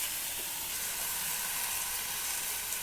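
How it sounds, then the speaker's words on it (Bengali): Malabar spinach hitting fried meat in a hot pan, giving a steady, bright, hissing sizzle that runs unbroken throughout, fairly close, with no voices. "মাংসটা ভাজা ভাজা হয়ে গেছে, এখন আমি পুঁই শাকটা ছেড়ে দেব।"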